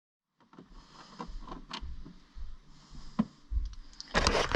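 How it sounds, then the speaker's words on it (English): Screws being removed from the glove box area of a 2016 Jeep Renegade, close-up clicks, ticks and scraping thumps of a tool on plastic trim, ending in a louder rustling clatter, with nobody talking. "next we need to open the glove box and remove these 3 screws that are right here"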